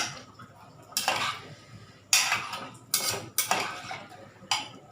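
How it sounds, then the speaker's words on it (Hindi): Metal spoon clanking against a pot while tomato soup ingredients are stirred together before pressure cooking, several distinct sharp scrapes and knocks spaced about a second apart over a soft background. "इन सभी चीज़ों को हम अच्छे से मिक्स करेंगे."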